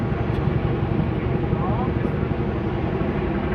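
A CH-47 Chinook helicopter at an air show in Germany produces a steady, broad rumbling roar, with a commentator talking over it.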